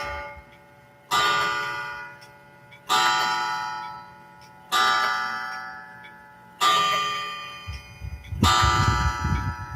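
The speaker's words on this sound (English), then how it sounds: "It's going to be a very, very loud series of chimes because it's 9 o'clock at night" A clock strikes nine o'clock at night: five loud, resonant chimes ring out at steady intervals, each ringing on and decaying before the next strike, with a low rumble joining near the end.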